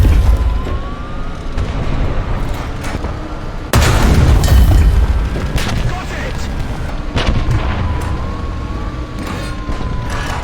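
Tank cannon shots and explosions from a War Thunder battle between Abrams and Maus tanks: heavy booms crack out over continuous rumbling battle noise, with a faint whining tone running underneath.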